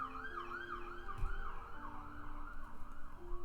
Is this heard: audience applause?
no